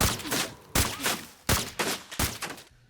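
Knight 110 sniper rifle firing in a video game: four loud, evenly spaced single shots, each with a sharp crack and a trailing echo, heard alone.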